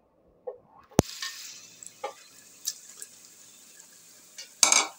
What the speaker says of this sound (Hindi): अब इसके अंदर मैं गोश्त शामिल कर रही हूँ